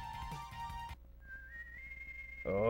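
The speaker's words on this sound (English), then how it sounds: "That terrible whistle sounds familiar." Whistled tune in the video game Mega Man 7, a short melodic phrase with a sustained rising whistle, loud and alone over a steady game backdrop that ends with a sharp chiptune burst.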